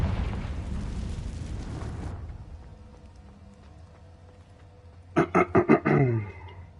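Loud spell-blast burst in a Harry Potter style game, a broad roaring explosion that fades over two seconds, followed later by a quick cluster of four or five sharp, punchy crackling bursts.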